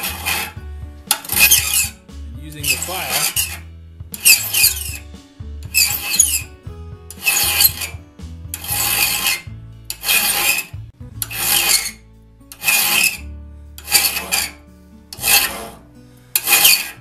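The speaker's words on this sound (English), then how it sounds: "File off the raker teeth" Hand file rasping across the raker teeth of a one-man crosscut saw, in about a dozen steady strokes with short pauses between, close and fairly loud with no talking.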